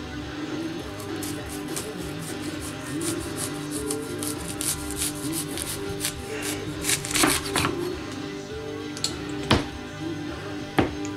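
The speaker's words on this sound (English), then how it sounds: "next I'm gonna cut up an onion" A knife chops an onion on a cutting board at home, its quick, uneven taps growing sharper toward the end over a steady low hum.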